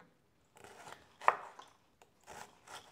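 A knife slices thinly through quartered fennel on a cutting board, making a few soft, separate crunchy strokes with short pauses between them.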